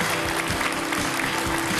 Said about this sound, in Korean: 따뜻한 위로의 박수 부탁드립니다.